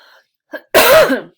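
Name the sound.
cough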